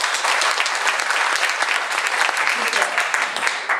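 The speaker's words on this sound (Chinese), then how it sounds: "给大家自己一个热烈的掌声好吗？" Warm, sustained applause from an audience at a meeting rings out loudly and evenly, with a brief word of thanks spoken over it.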